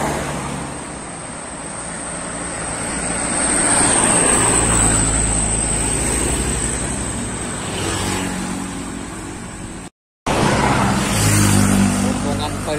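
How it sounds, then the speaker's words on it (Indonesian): A medium Skybird tour bus drives past, its engine rumble rising and fading over steady road noise, with a brief dropout near the end. "bus Skybird medium bus."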